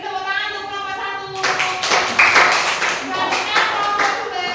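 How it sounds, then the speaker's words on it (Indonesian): Classroom applause for a student group after a science demonstration, a few seconds of mixed clapping from a room of pupils joining in partway through, with voices chattering underneath. "Oke, beri tepuk tangan untuk kelompok 1."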